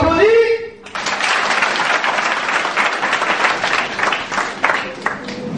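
An audience in a conference hall breaks into loud, sustained clapping right after a short spoken prompt, the applause filling the room evenly for several seconds.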